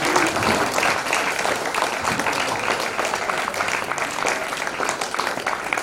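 An audience at an indoor birthday celebration claps steadily and densely throughout, a continuous wash of applause with some voices mixed in.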